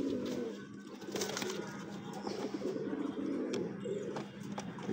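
Several local domestic pigeons keep up a steady, low burbling coo nearby, the soft rolling calls overlapping almost continuously.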